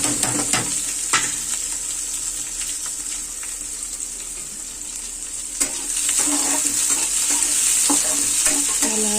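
Greens frying in hot oil with popping mustard seeds, onion, garlic and chili, a loud continuous sizzle with occasional sharper crackles and stirring scrapes, close up and without talk.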